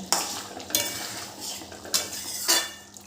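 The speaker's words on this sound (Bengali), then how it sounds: "এবার ভালো করে মিশিয়ে নেব" Jackfruit seed curry with ghee and garam masala being stirred in a pan, a spoon scraping and clinking against the metal in four or five distinct strokes over a soft background.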